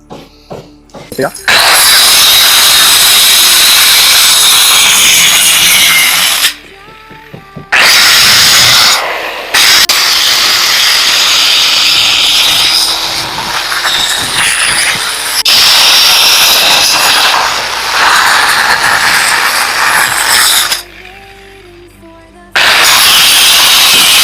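A power tool cuts into a wall using a dust-free method that leaves some mud. It gives a loud, close, grinding whine in long stretches, broken by a few short pauses.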